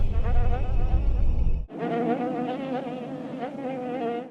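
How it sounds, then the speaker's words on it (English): Flies buzz in a dense, continuous drone at the opening of the 2013 Evil Dead horror film, steady and close with a low rumble beneath at first that drops away midway. "The remake opens with the sound of buzzing flies"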